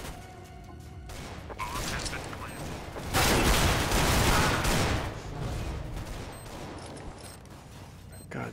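Glock pistol fire in CS:GO, a dense spell of rapid shots with a louder burst in the middle, mixed with other game noise and some voice underneath.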